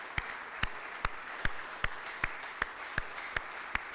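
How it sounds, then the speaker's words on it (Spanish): A church congregation claps in a slow, steady rhythm, about ten sharp, evenly spaced claps sounding moderately distant over a quiet room. "Le damos un aplauso al Señor."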